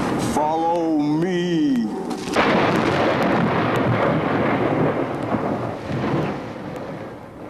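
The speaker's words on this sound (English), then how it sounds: "does that thunder follow everything you say?" A thunder sound effect follows a brief spoken line, breaking into a loud, long rolling rumble that slowly fades away.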